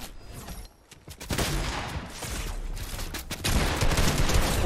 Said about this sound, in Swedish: Oh, han missar skottet, Sixy.